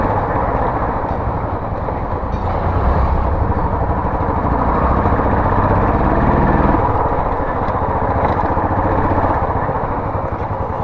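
A Royal Enfield Classic 350 motorcycle engine drones and rumbles loudly close by for the whole stretch, with a rough, even throb and no speech over it.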